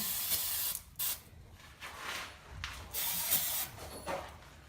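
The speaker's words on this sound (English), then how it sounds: "we'll just give it another spray down" Several bursts of hissing brake cleaner aerosol spray on a Jeep CJ5, close and loud, in uneven pulses of about a second each with short gaps between.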